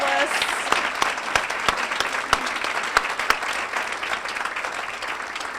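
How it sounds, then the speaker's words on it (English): At a women's resource center luncheon, the audience applauds the women honored and the finalists, with sustained crowd clapping marked by a few sharp, close individual claps and some voices beneath. "one more round of applause for all these wonderful women and our finalists"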